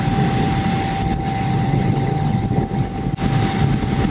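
Steady, loud engine roar of a SubSonex small jet aircraft in flight while it performs a quick roll, heard continuously from onboard with a constant whine and slight dips in level, no talking.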